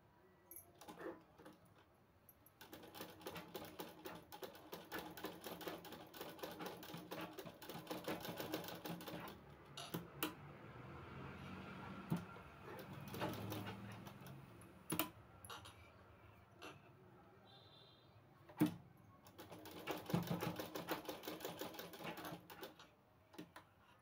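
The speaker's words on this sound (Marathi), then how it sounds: "याला बाजूने आपल्याला शिलाई मारून घ्यायची आहे" A sewing machine stitches fabric pieces for a latkan, running in long steady rattling bursts separated by short pauses and a few clicks, close and fairly quiet.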